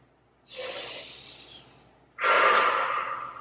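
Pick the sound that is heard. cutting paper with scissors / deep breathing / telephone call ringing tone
deep breathing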